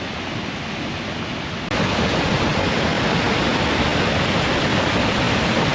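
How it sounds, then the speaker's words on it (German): A torrential flash-flood river rushing through desert in Tunisia, a loud, continuous broadband roar that jumps abruptly louder partway through and then holds steady, with no voices over it. "Innerhalb von Sekunden verwandelt sich die trockene Landschaft in einen reißenden Fluss."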